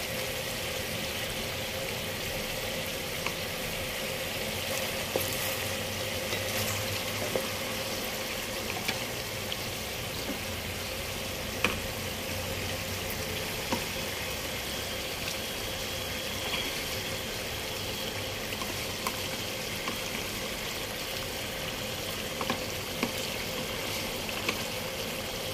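Chicken fries in a yogurt masala paste with a steady, even sizzle and bubbling hiss at moderate volume. Occasional faint clicks of stirring can be heard throughout.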